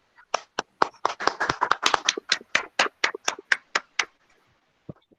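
A few people at a Rotaract club installation ceremony clap for the dignitaries, sparse distinct hand claps that build briefly and trail off to a couple of final claps.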